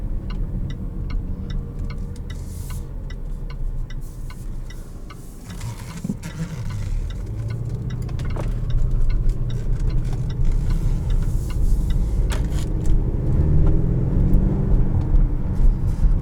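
A 2020 Jaguar F-Pace 30t with a 2-liter turbo engine and ZF 8-speed automatic drives along, its steady cabin hum and road rumble rising gradually as it picks up speed.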